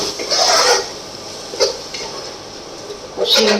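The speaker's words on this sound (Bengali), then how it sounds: "ব্যাস, এই মশলাটাকে ভালো করে নেড়ে চেড়ে কষিয়ে নেব" Spice masala with salt and Kashmiri chilli powder stirred and fried in a pan for a fish-bone curry, giving scraping, rasping strokes in short bursts, close up, with quieter sizzle between.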